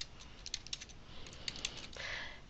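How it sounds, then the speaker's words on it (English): Typing on a computer keyboard while entering text into a table cell, a quick run of light, close key clicks with brief pauses, ending in a slightly longer burst of keystrokes. "I'm going to type in disease"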